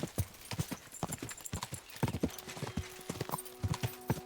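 Rapid, irregular hoofbeats clatter nearby as a horse gallops in the video game Kingdom Come: Deliverance 2, with a brief whinny-like tone partway through.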